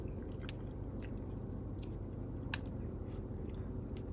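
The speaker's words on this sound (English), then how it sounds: "I might leave the parts where I'm eating and chewing." A person eating and chewing close up, with soft wet squishes and occasional crunchy clicks over a steady low background rumble. Nobody talks.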